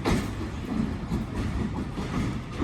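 A train pulls into Khanpur railway station with a steady, loud rumble of rolling wheels and carriages, faint clacking running through it and no voices.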